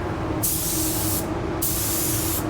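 An Ultra 9K paint spray gun sprays paint in winter, giving two steady, close hissing bursts of about a second each over a constant background hum.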